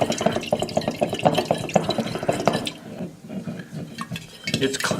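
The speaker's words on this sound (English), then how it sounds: "I'm going to take a popsicle stick and mix it up really well" A popsicle stick stirs a lacquer mixture in a small container, giving close, steady scraping and liquid clicking with a busy, wet texture that eases off partway through.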